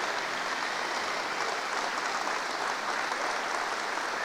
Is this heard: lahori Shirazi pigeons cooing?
no